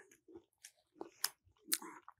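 Crunchy murmura, a seasoned puffed rice snack, being chewed close up in a quiet kitchen, with a few separate crisp bites and crunches spaced irregularly over a couple of seconds.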